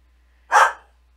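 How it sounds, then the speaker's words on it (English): A dog barks once at close range, a single loud, sharp bark indoors with silence before and after. "Now he's barking at the wall."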